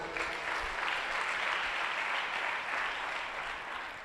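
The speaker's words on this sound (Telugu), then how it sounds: "కొట్టు చప్పట్లు ఒకసారి" A church congregation at a Christian ministry service in Guntur claps on request, a steady, even wash of applause lasting about four seconds and heard from a moderate distance.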